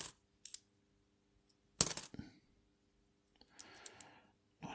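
Coins from a mixed coin search clink and drop in a few separate bursts: brief metallic taps, a louder jangling spill in the middle, then softer rattling near the close.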